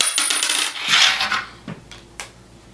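A coin flicked off a playing card balanced on a fingertip drops and lands with a bright metallic clatter, then a couple of smaller bounces and rattles, close and clear with no talking.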